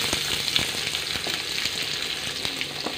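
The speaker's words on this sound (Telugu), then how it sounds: "పోపు దినుసులు బాగా వేగాయండి ఇందులో ఉల్లిపాయలు" Onions frying in a pan with tempering spices for a tomato drumstick curry, a soft continuous sizzle with faint crackles, steady and unaccompanied by voices.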